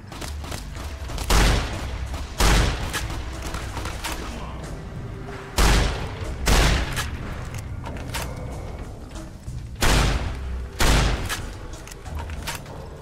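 Gunfire in Fallout: New Vegas, loud booming shots fired singly and in pairs at irregular intervals, with a continuous game background between them.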